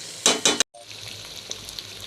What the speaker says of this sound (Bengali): এই যে এরকম চটপট চটপট আওয়াজ হবে, তাহলে ভাজাটা হয়ে গেল।